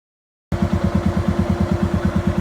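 Car engine idling during a radiator flush, starting abruptly and then holding a close, steady, evenly pulsing idle rhythm with no voices.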